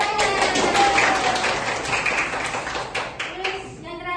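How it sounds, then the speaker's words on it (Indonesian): A class of students claps briefly in a classroom, a scattered burst of applause with voices mixed in. "Tepuk tangan."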